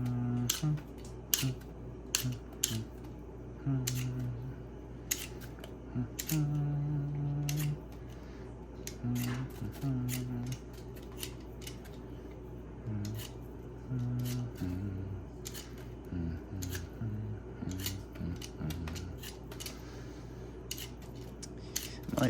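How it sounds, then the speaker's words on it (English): Vegetable peeler scraping along potatoes in a home kitchen, a steady run of short, quick rasping strokes close to the mic, moderately quiet, with no talk. "Spend about 20 minutes peeling potatoes."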